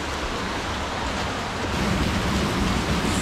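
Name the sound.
Menzenschwander waterfall near St. Blasien, Black Forest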